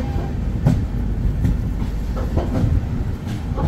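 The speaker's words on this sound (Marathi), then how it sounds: "आपली मंगळुरू गाडी आता सुटलेली आहे इथून रत्नागिरीवरून." Mangaluru Superfast Express 12133 running on the tracks after leaving Ratnagiri in the rainy early morning, a steady rumbling roll with periodic clickety-clack beats over rail joints, heard from on board.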